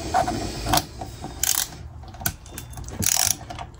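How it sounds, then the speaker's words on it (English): A ratchet with a Torx T15 bit loosens screws on a Ninebot Max electric scooter during a rear brake adapter install, giving several short bursts of rapid clicking separated by pauses, close and fairly loud. "To remove the screws over here, we're gonna use a torque head number 15."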